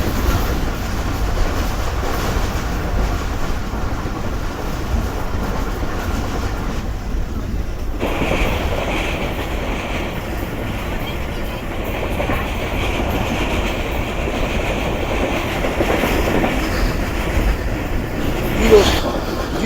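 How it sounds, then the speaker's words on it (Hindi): A Rehman Baba Express passenger train in economy class runs at speed, giving a steady, loud rumble with rhythmic clickety-clack of the wheels throughout and no voices. "तो ढाबे जी को भी ट्रेन ने स्किप किया है काफ़ी अच्छी स्पीड में"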